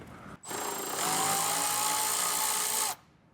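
A power tool whirs for about two and a half seconds as it spins out a bolt tucked in a crevice on a Toyota 4Runner (2010–2024), starting abruptly, holding a high steady whine, then cutting off.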